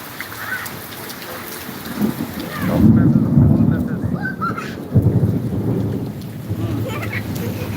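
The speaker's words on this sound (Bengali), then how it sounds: "আকাশে অনেক জোরে জোরে ডাকতেছে" Thunder rolls loudly overhead in a rainstorm, a heavy rumble swelling and then breaking again over steady rainfall, with a voice talking at times.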